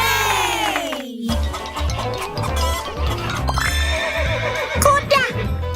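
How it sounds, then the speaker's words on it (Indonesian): A horse neighs loudly in a long descending whinny at the start, followed by busy playground-ride sounds, music and light clip-clop, with faint cheering in the background. "Kuda."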